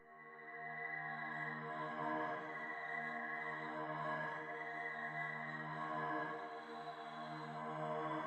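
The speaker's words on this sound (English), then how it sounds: "So I basically turned the piano into a pad," A piano sample reworked into a dark ambient pad, with much of the high and low end filtered out and reverb added. It holds sustained, layered tones that swell and blend steadily throughout with no voices.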